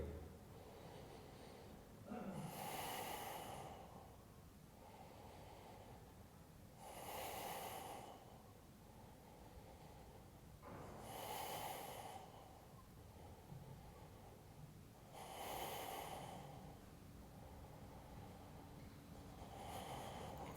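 Slow, steady breathing while holding a plank, with five loud breaths about four seconds apart, each a close airy exhale with quieter inhales between.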